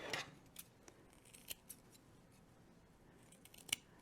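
Scissors snip through yarn in a few quiet, close cuts, with short crisp clicks and a louder snip near the end, and no talking.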